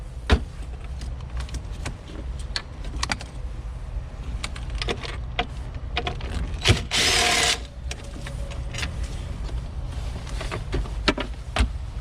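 A tool loosens 10mm bolts on a Lexus RX center console with scattered ratcheting clicks and clatter at close range, plus one brief burst of a power driver partway through, over a low steady hum.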